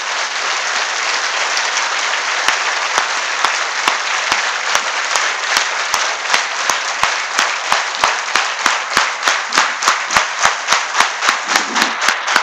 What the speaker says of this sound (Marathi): यांच्यासाठी आपण एकदा जोरदार टाळ्या वाजवूयात